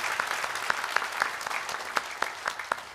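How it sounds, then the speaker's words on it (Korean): A church congregation claps to welcome newcomers at a Sunday worship service, a moderate, even round of applause with a few louder individual claps standing out. "잠깐 일어서시면 우리 박수로 환영하도록 하겠습니다"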